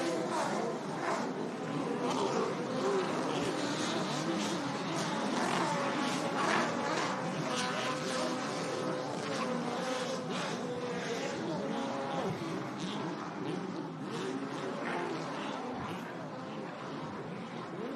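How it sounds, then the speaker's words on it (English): Two-stroke and V8 powerboat engines racing at the St. Pete Powerboat Grand Prix, a dense continuous mix of buzzing high-revving two-strokes and deeper pounding V8s, mid-distance, with a commentator's voice over the engines. "You got the two-strokes ripping over here and the big V8s pounding around out there."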